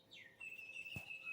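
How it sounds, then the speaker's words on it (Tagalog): A short pigeon call near the start, then a steady high whistle-like tone with a brief burst in the middle; faint and close. "Hindi umaalis yung kalapati."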